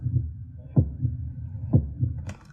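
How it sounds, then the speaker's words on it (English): A cinematic heartbeat sound effect for a short film pulses in deep, muffled double thumps, a steady slow rhythm, loud and alone, with a faint higher tick near the end. "So this is the heartbeat"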